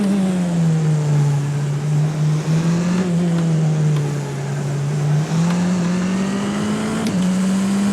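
A Tatuus FT-60 open-wheel race car in the rFactor 2 racing game at Pukekohe Park holds a loud, steady engine drone that rises and dips as it shifts and accelerates through corners, running continuously with no talk.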